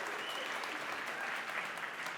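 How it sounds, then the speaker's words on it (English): Conference audience in San Francisco clapping steadily, a fairly faint, even wash of many hands heard from a distance with no talking over it. "You can clap."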